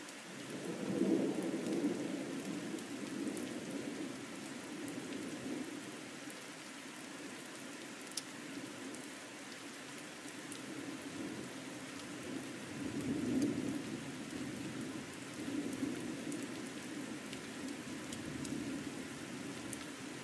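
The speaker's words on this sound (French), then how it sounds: "l'orage a fait son bruit" A steady thunderstorm with continuous rain pattering on surfaces and low rolling thunder swelling near the start and again partway through, heard from shelter in the hollow of a tree.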